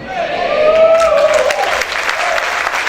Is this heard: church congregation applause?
yes